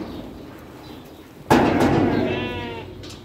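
Lambs with mange bleat on a livestock fattening farm, one sudden loud call with a thud-like onset that trails off, over a low steady barn background.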